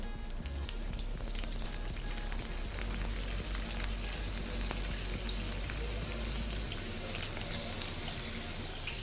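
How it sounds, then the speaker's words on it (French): Shrimp cooking in a frying pan with a small drizzle of oil give off a steady, dense sizzling hiss that continues without a break, with no voices over it. "Dans l'autre poêle, nous allons également mettre juste un petit filet et nous allons cuire nos crevettes."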